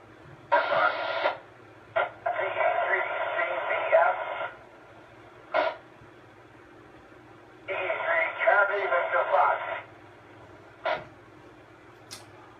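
Amateur radio check-in bursts over a repeater on a net: several short and longer bursts of filtered, narrowband transmitted voice separated by quiet gaps with a low steady hum.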